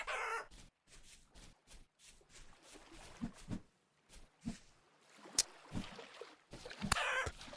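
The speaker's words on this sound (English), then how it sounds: "I heard chickens over here." Chickens cluck in the survival game Vintage Story, short faint bursts scattered across a quiet outdoor scene, with a louder crow-like call near the start and end.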